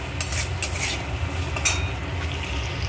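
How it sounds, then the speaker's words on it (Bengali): Potatoes stirred and fried in hot oil in a pan for a Bengali duck egg curry, a steady sizzle with scraping spoon strokes against the pan, close and continuous. "এই অবস্থায় আমি আলুগুলো দিয়ে দেবো। দিয়ে একটু ভালো করে কষবো।"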